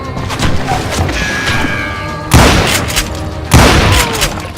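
Gunshots in Call of Juarez Gunslinger, two loud booming blasts about a second apart standing out over a busy background of game music and effects.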